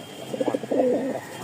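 Pigeons kept in pairs for sale coo softly up close, a short run of low, throaty rolling coos lasting about a second over a quiet background.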